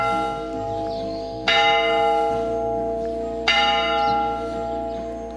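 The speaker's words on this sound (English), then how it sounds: "just when the bells are ringing" Church bells ring out along the Camino Francés pilgrimage route in Spain, a loud sustained peal of layered bell tones with fresh strikes swelling at intervals, heard clearly on their own with no talking.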